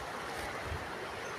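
Brahmaputra river water at a bank in Dibrugarh gives a faint, continuous washing hiss, steady and distant with no other sounds standing out.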